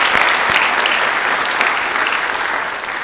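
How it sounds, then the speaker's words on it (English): Loud, dense applause from an audience at a high school sophomore awards ceremony, a continuous wash of many hands clapping that holds steady and fades slightly toward the end. "a round of applause."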